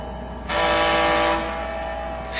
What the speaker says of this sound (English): He blasted his emergency whistle.